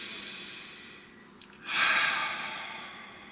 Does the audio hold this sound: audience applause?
no